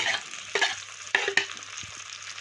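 Rice with spices, peas and cashews is stirred in a wok, with scraping spoon strokes over a soft, steady sizzle, close and without talk.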